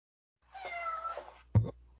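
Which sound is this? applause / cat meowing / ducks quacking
cat meowing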